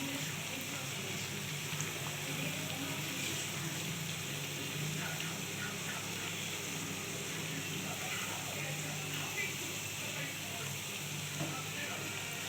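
Piyaji onion fritters deep-frying in hot oil, a steady dense sizzle and crackle held evenly throughout, close and continuous with no break.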